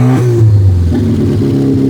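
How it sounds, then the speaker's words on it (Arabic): A homemade petrol-powered car built on a rooftop in Egypt revs its engine loudly and up close, a steady mid-pitched drone that rises briefly, with no talking over it. "سامعين صوت الموتور؟ سامعينه معايا؟"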